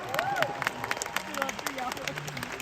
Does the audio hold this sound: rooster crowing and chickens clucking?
no